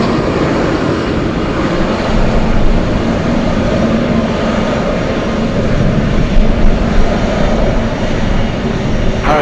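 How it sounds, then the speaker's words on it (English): An Atlas Air Boeing 747 cargo jet departs Anchorage for China, its heavy engine roar loud, continuous and rumbling low, surging a little as it climbs away. "All right, the Atlas flying to China."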